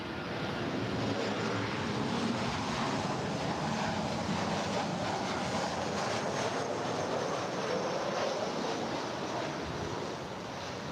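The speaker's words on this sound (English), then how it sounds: "Now coming in from El Paso, this is Southwest Airlines Flight" A Southwest Airlines jet arriving at LAX on its flight in from El Paso, heard as a loud, steady, broadband engine roar that holds evenly throughout with no talking.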